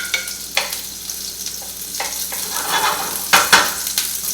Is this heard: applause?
no